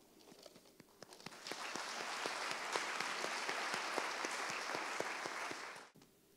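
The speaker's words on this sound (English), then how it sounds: "Can we just give everyone, each of you and everyone who is on stage today, another round of applause?" Audience applause for the speakers of a sustainability panel at a partners' breakfast. It begins with scattered claps, swells into a full, sustained round and then cuts off abruptly.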